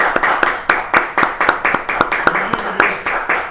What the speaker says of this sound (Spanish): vamos a recibir con un fuerte aplauso